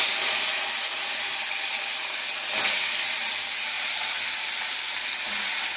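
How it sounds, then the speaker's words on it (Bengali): Rohu fish pieces coated in salt and turmeric fry in hot oil in a kadai, a loud continuous sizzle and hiss with a sharp flare midway, no talking. "ভালোভাবে মাছগুলো আমি ভেজে নেব"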